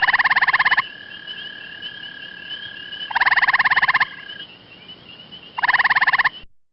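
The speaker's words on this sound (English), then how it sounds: "you hardly ever see gray tree frogs, but they do have a distinctive, short, melodious musical trill" Three loud, rapid musical trills from an eastern gray tree frog, each about a second long with pauses between, the last shorter, alone against a faint background hum.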